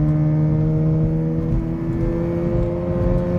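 A Mazda RX-8 rotary engine revs steadily on an icy winter drive, its loud, sustained droning whine holding a near-constant pitch with slight rises, close and continuous throughout.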